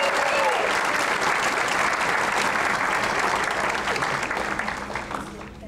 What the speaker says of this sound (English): make some noise for them and cheer them on.